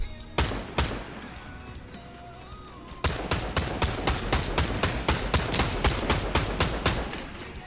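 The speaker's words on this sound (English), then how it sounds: "I see the old suitcase gun seems to be working." Gunfire from a suitcase gun in the Fortnite video game: a few scattered shots, then a long, steady stream of rapid, evenly spaced bursts, loud and close.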